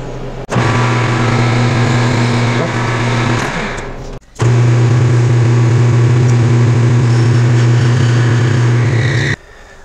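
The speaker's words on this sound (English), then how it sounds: "first I'm going to touch off on the end of the piece so that I know where the edge of my parting tool is" A metal lathe runs steadily with a loud motor hum and whine as a parting tool touches off on the end of the workpiece, broken by one brief pause before the spindle drone resumes.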